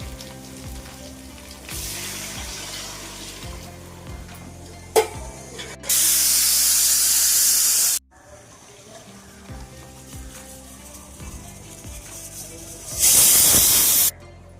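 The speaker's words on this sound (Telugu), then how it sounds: "బియ్యం మూడు లోటాలు నీళ్ళు వేస్తున్నానండి" Water poured from a pot onto rice for coconut rice, heard as two loud, rushing splashing bursts a few seconds apart, with quieter clattering of kitchen vessels between them.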